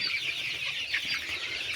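A dense chorus of about 500 Sonali chickens clucking and chattering continuously, many birds together in an enclosed poultry house with no talking.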